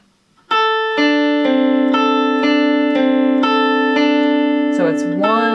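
Electric guitar playing an opening bar, a steady pulse of evenly picked, ringing notes over a sustained low drone, clear and loud, ending with a short string slide.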